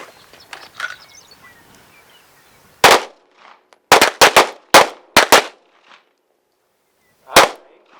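Several sharp pistol shots crack out at an outdoor shooting range during a defensive pistol drill. One shot is followed by a quick cluster of five and then a lone final shot, each loud and close with a short ringing tail.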